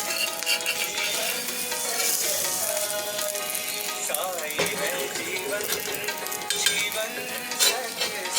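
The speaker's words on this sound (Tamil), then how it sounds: "முட்டை வேகும். ஓகேவா? நான் ஃப்ளேம் வச்சிருக்கேன், வேகட்டும்." An egg omelette frying in a pan over a gas flame gives a steady, close sizzle throughout, with a few light scrapes and stirring clinks, and no talking.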